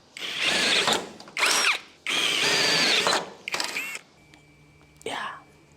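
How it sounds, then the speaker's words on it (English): Power drill boring holes for rivet nuts, several loud bursts of drilling of one to two seconds each separated by short pauses, ending in a brief whir. "I've got to go up to 9mm, and then we'll riv nut them all."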